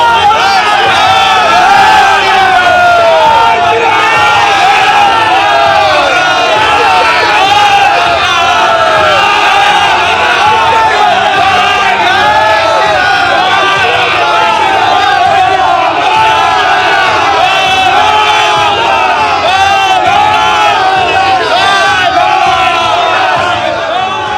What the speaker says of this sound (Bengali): তুমি দেখতে পাচ্ছ যে কৌস্তব বাগচিকে ঘিরে জয় বাংলা স্লোগান দেওয়া হচ্ছে এবং কৌস্তব বাগচির তরফ থেকেও জয় শ্রীরাম বলা হচ্ছে